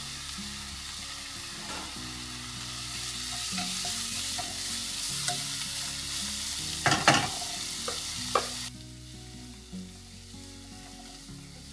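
Shrimp frying with softened onions in a pan for fried rice, a loud, steady sizzle with repeated spatula stirs and a cluster of scraping clatters near the end before the hiss drops off.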